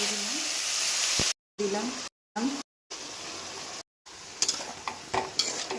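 Vegetables and lentil nuggets (bori) frying in oil with panch phoron for a spinach dish, a continuous sizzle broken by brief gaps, with stirring scrapes and utensil clinks while a voice speaks briefly.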